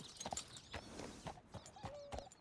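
Horse hooves clip-clopping in the Red Dead Redemption 2 video game, a few quiet uneven steps close by, with a faint whinny-like tone near the end.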